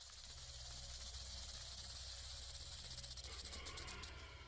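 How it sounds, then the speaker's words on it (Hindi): A rattlesnake shaking its tail rattle, a steady dry buzzing hiss held continuously throughout, fairly loud and close with no voices. "रैटल स्नेक जितना ज्यादा उम्र का होगा इसकी ये आवाज उतनी ही ज्यादा होगी।"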